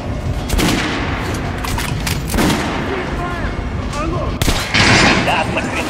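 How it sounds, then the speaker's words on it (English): Gunfire from a weapon shooting an armored dummy in the video game Metro Last Light Redux, a loud run of rapid close shots in bursts over a background of game ambience and a voice speaking. "Now shooting armored dummy."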